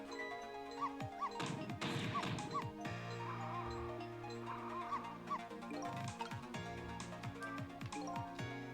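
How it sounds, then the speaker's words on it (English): Cartoonish dog barks from the Ghost Trick video game, several short yips scattered over busy game music and sound effects, fairly loud and up front in the mix. "What exactly are you barking about anyway?"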